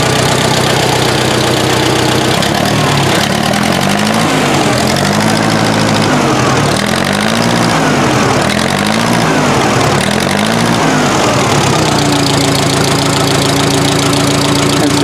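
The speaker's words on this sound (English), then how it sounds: "I'm about to hear this tractor run on 4 cylinders for the first time" A Case 530 tractor engine runs steadily and loudly on four cylinders after a valve fix, its uneven chugging rising and falling in rhythmic surges before settling into a smoother, steady hum.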